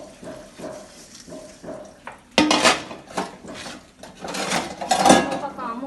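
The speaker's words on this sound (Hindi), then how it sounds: "और यहाँ पे मैं अब धो देती हूँ बर्तन।" Dishes, pots and utensils being washed in a home kitchen, with bursts of clattering and running water that grow louder in the second half, after quieter handling sounds.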